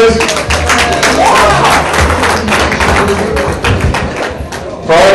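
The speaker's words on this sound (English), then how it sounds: "How about a big round of applause always for the Adam and Q for doing this with us." Audience at a comedy night at The Cue cheering and clapping for the show's hosts, a loud, dense burst of crowd applause with a voice heard over it.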